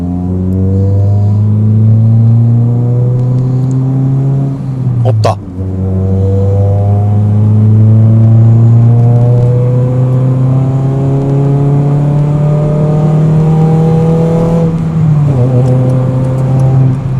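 A Hyundai Tuscani four-cylinder exhaust drones loudly and steadily, its pitch climbing gradually as the engine revs toward 2,000 to 3,000 rpm, with a brief dip partway through.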